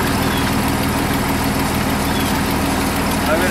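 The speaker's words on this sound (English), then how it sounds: "so I'm going to leave the engine running" Steady low rumble of a truck engine idling, running on a supercapacitor battery replacement, loud and close throughout with constant vibration and a faint voice in the background.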